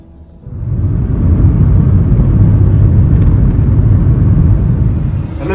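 A car being driven makes a steady, loud rumbling whir of engine and road noise that swells in after a quiet start and holds evenly to the end, with no talk.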